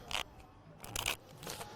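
A deck of playing cards is shuffled during a close-up magic trick: three quick, crisp riffling bursts with short pauses between them, close and fairly quiet.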